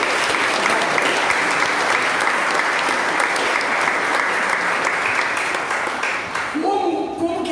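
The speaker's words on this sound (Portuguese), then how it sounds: "Você pode aplaudir Jesus Cristo." A church congregation breaks into loud, sustained applause that fills the room evenly for several seconds, a dense wash of clapping before it thins and fades out near the end.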